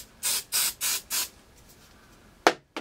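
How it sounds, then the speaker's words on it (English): Hairspray is sprayed over a half-up hairstyle in four short even hisses, followed after a pause by one final quick burst, close and clear. "Then you're going to take hairspray and you're going to spray right over that."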